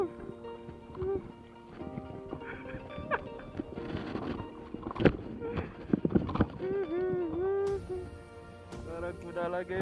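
Horse hooves clip-clop steadily at close range beside a spot used for fishing, joined by a horse's whinny, with people talking over the rhythmic clopping throughout.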